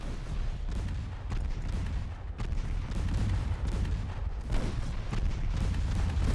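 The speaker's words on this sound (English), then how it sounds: "Torpedo detonation, good." Torpedo detonations and naval gunfire in the Ultimate Admiral Dreadnoughts warship battle game, a dense continuous rumble of booming blasts with sharper bursts layered throughout, loud and sustained.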